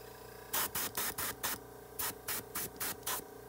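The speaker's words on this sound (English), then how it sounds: "now I'll spray it back on the end" Airbrush spraying weathering onto a Bachmann On30 side dump model car in eight or nine short, even bursts of close hiss with brief pauses between, over a steady low hum.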